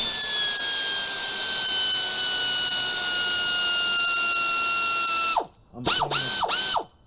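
A socket wrench works on plenum bolts of a Chevy Impala engine. A long, steady mechanical whine with a slowly falling pitch fills most of the time, then a few quick ratcheting strokes come close and loud at the end.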